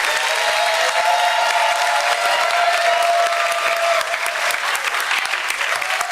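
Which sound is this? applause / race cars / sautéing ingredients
applause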